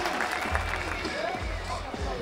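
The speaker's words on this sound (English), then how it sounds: "Listen to the crowd." Steady crowd noise from spectators at a BMX spine final during a competition in Montpellier, a continuous broadband roar with scattered cheers and claps under a commentator's voice.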